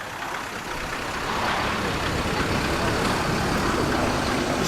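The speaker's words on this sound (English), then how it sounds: "there goes the Land Rover and also the Alfa Romeo Alfa Sud" Classic cars, a Land Rover and an Alfa Romeo Alfa Sud, drive off at a classic car gathering, giving a broad, rising engine and road rumble that swells and holds close by, with voices mixed in.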